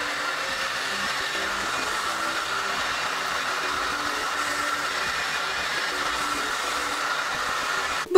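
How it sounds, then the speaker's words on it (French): A Tempest hair dryer blows with a steady, loud whooshing hum, running continuously and then clicking off at the very end. "Bon, ça c'est le côté sèche-cheveux"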